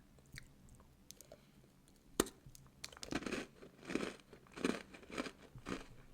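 Close crunchy biting and chewing of half a mocha-flavored bakery pastry, one sharp bite followed by a steady rhythm of crisp crunching chews, intimate and quiet with no talking.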